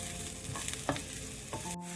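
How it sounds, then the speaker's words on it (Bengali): Chopped onions fry in a pan until reddish, giving a dense, continuous, close sizzle with a few quick stirring scrapes and clinks, and no voices. "পেঁয়াজটা লাল লাল করে ভাজা হয়ে গেছে"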